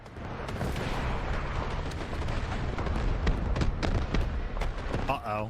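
Heavy gunfire and explosions pound a tank destroyer in a team-based military shooter, a dense, loud barrage of booms and shots throughout, with a brief voice near the end.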